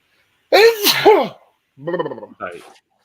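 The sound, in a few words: sneeze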